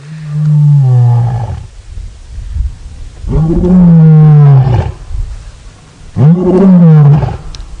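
A lion roars in long, loud, close groans, three deep drawn-out calls with pauses between, heard near a safari vehicle at sunset, with no talk over it.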